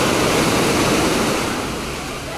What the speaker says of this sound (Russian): А тут как-то волны, что ли, больше